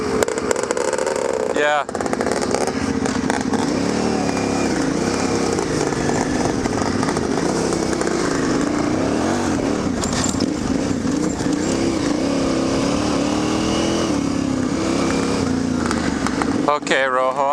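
A 500 two-stroke motorcycle runs close and loud with a raspy, buzzing drone that rises and falls with the throttle. A brief voice is heard over it.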